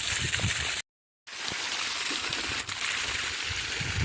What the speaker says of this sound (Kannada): ಪೈಪ್ಲೈನ್ ಮಾಡಿದ್ದೀರಿ ಇವತ್ತು ಫಸ್ಟ್ ನೀರು ನೋಡ್ರಿ